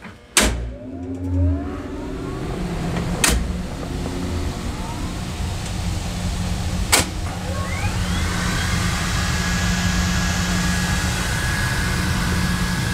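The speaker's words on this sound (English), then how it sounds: "I will turn the blowers on now and let's watch the bellows inflate." Pipe organ blowers switch on inside the organ chamber after a few clicks and clunks. Their broad, steady whoosh of air swells, and a hum rises in pitch as the bellows fill, settling into a constant drone.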